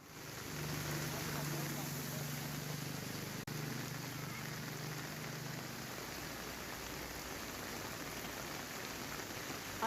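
Steady rain hisses in Rajkot during heavy monsoon downpours, with a low engine hum in the first half that fades, a soft continuous wash of water throughout.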